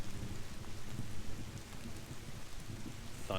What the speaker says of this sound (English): thunder, of course.